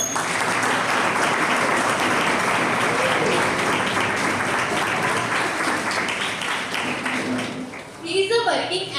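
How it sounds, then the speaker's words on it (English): A college mock parliament audience gives a long, loud round of applause welcoming the Speaker of Parliament, steady clapping that fades near the end as a voice begins speaking. "with a round of applause, please welcome our Speaker of Parliament"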